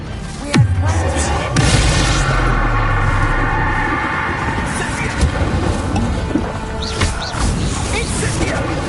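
A spell blast in the video game Hogwarts Legacy lands as a sharp, loud boom with a low rumbling tail, followed by continuous combat noise, roaring effects and smaller impacts under a busy game mix.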